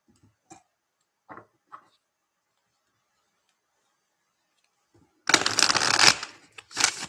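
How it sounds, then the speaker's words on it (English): Tarot cards are shuffled in a brisk, close riffling burst of papery flutter lasting about two seconds, followed by a shorter second riffle, after a few faint scattered taps in near silence. "So, as long as you're here, Spiderbite, let's throw you some cards."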